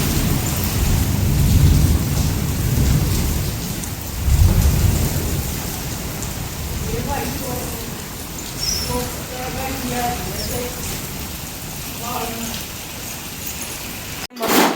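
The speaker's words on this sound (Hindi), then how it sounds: "खाली सूखे ओले आए थे ना" Hailstones pelting down at midnight during a village storm, a steady dense rattle and hiss of ice on surfaces with low rumbling swells, while voices murmur faintly underneath.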